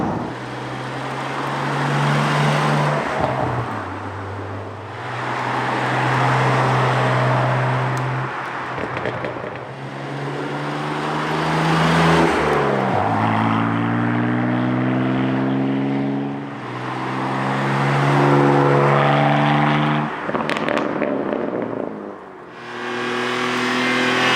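A BMW G87 M2 fitted with an Fi Exhaust drives under load, its engine pulling through repeated loud rising surges and gear changes, heard from inside the car.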